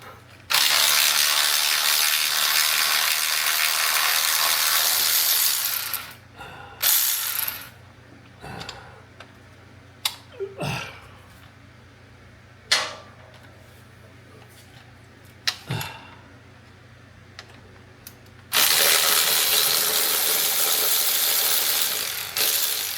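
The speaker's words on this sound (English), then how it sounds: "I like to take the end bolts out first." Bolts taken out of a 1985 Mercedes-Benz 380 SL with a ratchet, long stretches of loud whirring at the start and end, with sharp metallic clicks and clinks of bolts set down in between; no voices.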